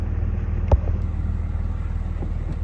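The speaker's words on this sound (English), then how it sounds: "Good old Stingray with a 350 in it." A Stingray with a 350 engine idling nearby, giving a steady low rumbling drone with one brief louder knock partway through, no voices.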